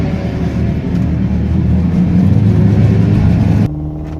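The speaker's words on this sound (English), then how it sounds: "SRT Hemi Durango 392." A Dodge Durango SRT 392 with a Hemi V8 rumbles loudly at a drag strip, its deep engine drone holding steady and building slightly before the sound cuts off abruptly.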